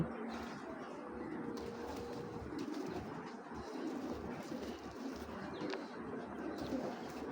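A pair of Mili pigeons, a female and a male, keeps up a steady low cooing that runs continuously, with faint chirps and background hum and no voices.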